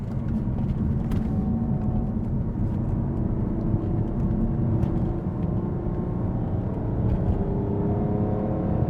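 A 2005 BMW 330i ZHP sedan accelerating up a highway on-ramp, its engine a steady, loud rumbling drone with rising tones as it builds power through a gear, heard from inside the cabin.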